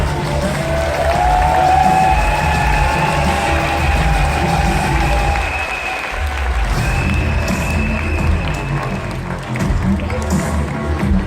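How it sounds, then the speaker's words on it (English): Crowd applause for athletes at a USANA event, sustained clapping with some cheering and murmuring voices over several seconds, continuing steadily with a few louder spots. "Give them a big round of applause, everybody."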